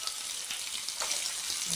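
Cumin seeds sizzling in hot oil at the start of a Telugu fish curry: a steady, close hissing crackle of frying that holds evenly throughout without talk.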